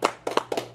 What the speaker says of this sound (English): give the ladies a big round of applause